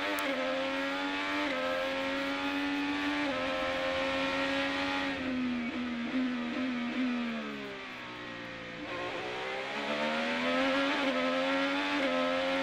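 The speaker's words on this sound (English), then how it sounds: "Let's go for a little ride on board this Menards-sponsored Chevrolet, the Australian Gold car" Onboard a Menards-sponsored Chevrolet IndyCar, the Australian Gold car, racing through the streets of St. Petersburg in 2021: a loud, steady engine scream that drops in pitch under braking for a chicane, then climbs again as the car accelerates out.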